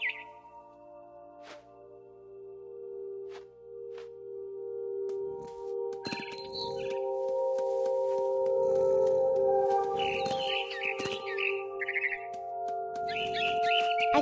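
A bird chirps in a tree within the video game What Remains of Edith Finch, short tweets repeating over a steady ambient drone and wind.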